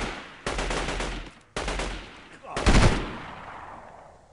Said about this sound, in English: we need to start shooting at all the enemies that show up